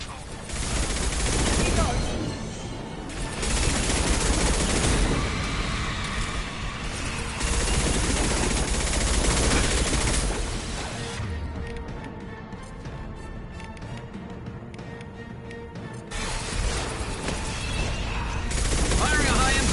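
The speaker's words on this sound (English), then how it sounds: "Firing anti-ship batteries at collector vessel" Heavy anti-ship batteries in Mass Effect 2 fire at a Collector vessel, a loud, continuous barrage of booming shots and rumbling impacts that fills the scene. Battle noise and voices mix in underneath.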